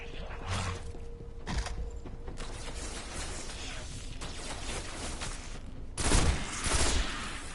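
Rifle gunfire in the video game Destiny, bursts of rapid shots with mechanical clicks and creaks, louder impacts near the end, no talk.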